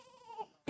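A goat bleats once, a clear wavering cry that fades out, followed by the sudden start of a voice.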